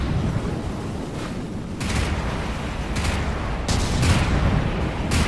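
Dense, loud gunfire rolls on continuously in a game firefight, with sharp cracks and ricochet-like bursts standing out at intervals over a constant rumble.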